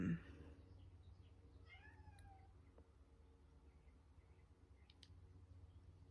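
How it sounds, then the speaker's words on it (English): A faint, drawn-out cat yowl rises and wavers from a distance over low background hum, with a few soft clicks. "don't know if you can hear my kitty yowling out there."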